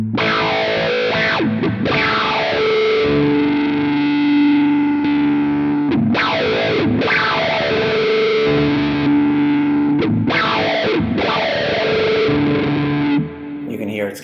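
Electric guitar through a Quad Cortex filter effect, switching between 2-pole and 4-pole modes, with distorted, heavily effected chords that sweep and self-feed, repeating in three swelling phrases loud and close.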